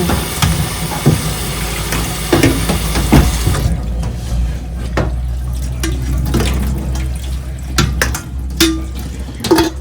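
Tap water running loudly over cooked spaghetti in a kitchen sink, a steady close gush with clattering of a pot or colander, and the flow easing partway through.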